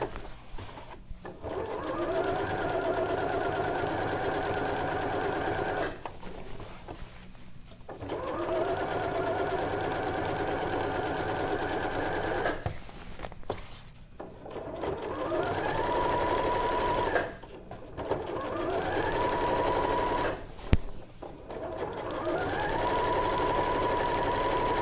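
A sewing machine stitches woven fabric for a skirt, running in several whirring bursts of a few seconds each, separated by short pauses and clicks, close and clear with no talking.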